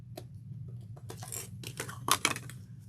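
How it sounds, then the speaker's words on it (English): Stitches being picked and snipped out of a sewn tote bag, close and quiet: a quick run of small clicks, tugs and sharp snips over a low hum, with no talk. "So I'm just going to remove those stitches real quick."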